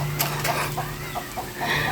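A chicken clucks in short repeated bursts against a steady background hum, close by and moderately loud.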